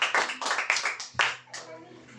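A church congregation claps hands in praise, a run of sharp, fairly close claps in an uneven rhythm that fade off, with speech mixed in.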